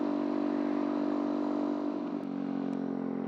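A Honda Z125 Pro motorcycle engine drones loud and close at high revs in a steady whine, then dips slightly and holds on, with no talk.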